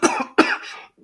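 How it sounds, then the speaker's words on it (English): A woman coughs in two harsh, close bursts, with a third starting just as the sound cuts off; short gaps fall between them. "sorry for coughing in your ears."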